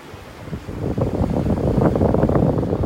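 Wind gusts and surf wash steadily along a beach in North Naples, Florida, at sunset, a broad continuous roar with no voices.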